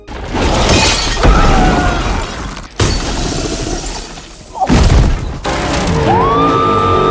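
Loud movie sound effects of glass shattering, with several crashing impacts and breaking bursts separated by short gaps and ringing debris, all at close range.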